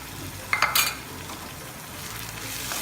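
Ginger and garlic sauté in a pan for Nagercoil-style egg curry, producing a steady close sizzle broken by a few quick scraping stirs.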